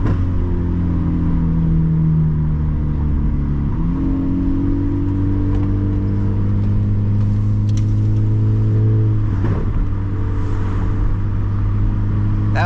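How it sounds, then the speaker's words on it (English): A naturally aspirated Honda Civic with a full aftermarket exhaust drones steadily while cruising, its low engine note shifting as the car changes speed and gear, loud and close from inside the cabin with no talk. "we're in the Honda Civic. We got the full exhaust on."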